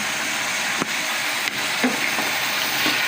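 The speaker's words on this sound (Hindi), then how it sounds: "अब मैं गोश्त को अच्छे से भूनूंगी 5-10 मिनट तक, कलर अच्छा आ जाए।" Mutton and potatoes fry in masala in a pot, a steady close sizzle with occasional stirring clinks and scrapes breaking through.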